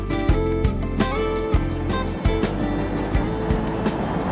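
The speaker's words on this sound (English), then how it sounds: "the only safe way I can figure to get across here is to drive over this escarpment" A 4x4 vehicle drives over a sand escarpment on a steep crossing, its engine a steady close drone broken by repeated low thumps and jolts as the wheels lurch over the collapsing sand.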